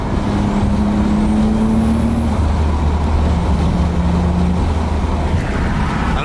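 Nissan Skyline R32 GTS-t with heavily modified spec runs with windows down, a loud constant engine drone with steady low tones, droning steadily without any talk.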